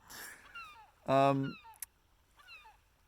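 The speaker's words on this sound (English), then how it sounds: "there's a few seagulls up there." Seagulls call outdoors in Norway: one loud, nasal squawk stands out between a few fainter, descending cries, with quiet gaps between them.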